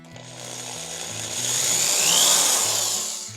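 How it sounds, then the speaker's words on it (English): A power drill bores steadily into a marionette's arm joint, a sustained grinding whine that swells and eases over a few seconds, close up. "I think I'm ready to start drilling the hole for the left arm now."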